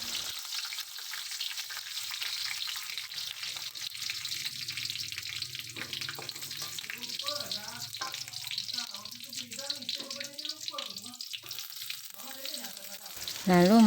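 Galangal and bay leaves stir-fry in a pan for a chayote sauté, a steady hiss with scraping stirs, mostly alone with faint voice toward the end.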